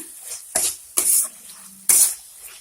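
Spice masala fries in oil in a pan for dhaba-style dal tadka, with three loud bursts of sizzling and stirring over a low crackle, no talk.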